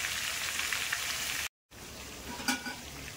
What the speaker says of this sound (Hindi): इसके अंदर हम पूरी चिकन को फ्राई कर लेंगे।